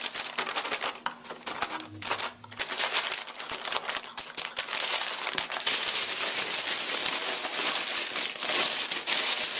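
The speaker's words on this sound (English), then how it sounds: "you're going to want to get all the tape and paper off anywhere it's left in the room" Painter's tape and paper being peeled off and crumpled while cleaning up a freshly painted room, a close, dense and continuous crinkling and rustling with sharp crackles and no talking.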